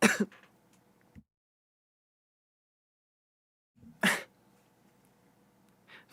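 Two short bursts of throat-clearing coughs, close and fairly loud, separated by a few seconds of silence, with breathy rasping after each.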